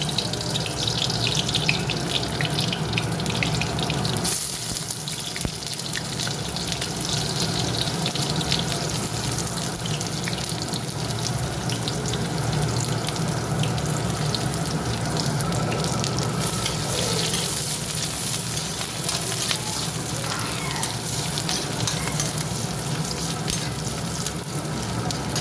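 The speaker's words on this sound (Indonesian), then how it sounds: "Minyaknya sudah panas," Garlic fries in hot oil in a home kitchen, a steady crackling sizzle with some sharper spattering and stirring, close and moderately loud throughout.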